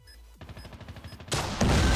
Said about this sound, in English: Try to dodge some of these shots.